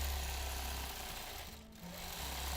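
A sewing machine doing free motion quilting runs as a steady, continuous motor hum and needle drone, briefly dipping in the middle before resuming at full level.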